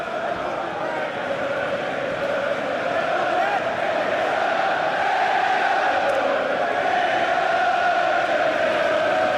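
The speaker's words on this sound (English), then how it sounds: "The crowds here in the UK are awesome." A big UK crowd at a UFC fight night in Birmingham makes a steady, dense roar that never lets up and stays loud the whole time, with a voice talking over it.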